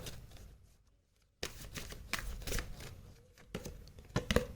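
Tarot cards being shuffled by hand during a card reading: soft, close riffling and papery flicking after a brief near-silent pause, with no talking over it.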